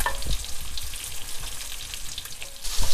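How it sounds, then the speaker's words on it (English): Butter and small white onions sizzle and crackle steadily in a hot pan, a close, continuous frying hiss with occasional pops and a brief stir near the end. "Once it's melted down, then we're gonna start browning off those little white onions"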